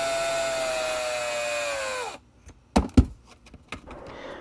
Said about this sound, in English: Then drill through until you hit the end of the tape.